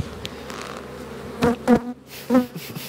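Honeybees from a tiny 2021 swarm, now thriving in a small nucleus hive box in April, buzzing continuously nearby, with several louder passes as individual bees fly close.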